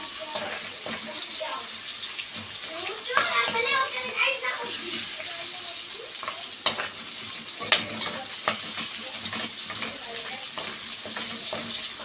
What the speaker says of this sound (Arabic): هتحمر دقيقة واحدة